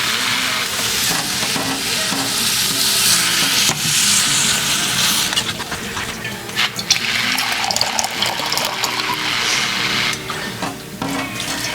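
Chicken pie filling is stirred in a pan on the stove, giving a continuous wet, sizzling scrape with bubbling liquid, close and fairly loud throughout, with no talking.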